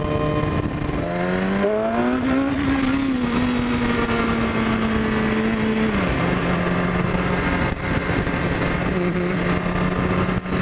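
A BMW motorcycle accelerates hard into a small power wheelie on a warm summer ride in Brisbane traffic: loud, close engine sound climbs in pitch, holds a steady drone, then drops as the throttle eases.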